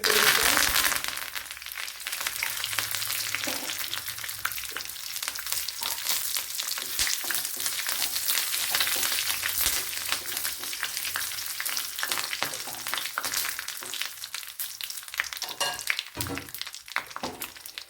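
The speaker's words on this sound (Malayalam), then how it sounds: "ഇനി ഇതിനൊന്ന് കടുതാളിച്ച് ഒഴിച്ചു കൊടുക്കണം ഇവിടെ കടുക് പൊട്ടിയിട്ടുണ്ട്" Mustard seeds splutter and crackle in hot oil as a tempering is made for bitter gourd curry, a dense, steady sizzle with fine popping throughout, close and continuous, with no talk.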